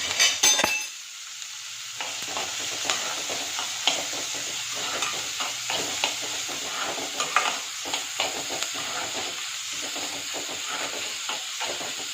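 Garlic and onion frying in a pan, a continuous close hiss and sizzle punctuated by repeated scraping stirs of a utensil, after a brief louder burst at the start.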